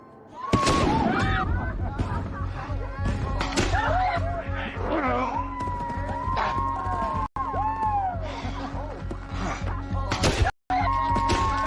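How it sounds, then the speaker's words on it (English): Neighborhood fireworks going off at night, with loud bangs and pops mixed with whistling, rising and falling tones, repeated through the stretch, while voices are heard at times. "And then the fireworks started."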